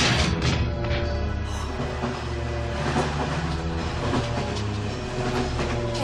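Train wagons roll along the rails in a Japanese anime, with a loud steady rumble, rhythmic clatter and metallic squeals, joined by occasional clanks as the cars are uncoupled; no voices.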